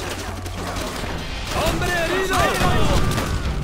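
Battle sounds from the video game Call of Duty: World at War: loud gunfire and booms under a soldier's shouted voice, with other combat noise and voices layered through the scene.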